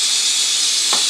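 Ginger garlic paste frying in a hot pan gives a loud, steady sizzle with constant hiss and a brief stirring scrape near the end.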